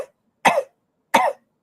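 A person imitates a hacking cough with two sharp, dry coughs roughly three quarters of a second apart after a short vocal sound, close and clear against silence.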